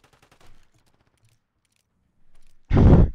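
A single short, loud burst of video game gunfire hits at the end, after near silence with some faint clicks and brief quiet game sounds.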